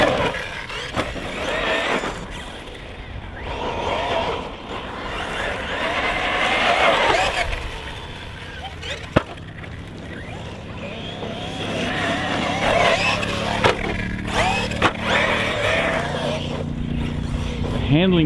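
A Team Corally Asuga XLR RC basher buggy on 6S power with Sketer tyres is driven outdoors, its electric motor whining and surging, tyres scrabbling and skidding, with a sharp knock and a person talking over parts of it.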